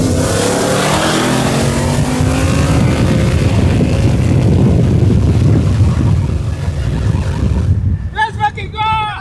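Two Ford Coyote V8 cars, one Whipple supercharged and one naturally aspirated 450hp, accelerate hard from a standing start in a race, a loud, sustained engine roar with heavy wind buffeting that drops away as voices shout near the end.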